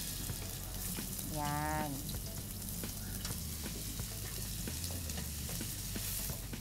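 Onions sautéing in a pan for a longganisa dish, giving a steady close sizzle and crackle with occasional stirring scrapes, and a brief voice over the frying.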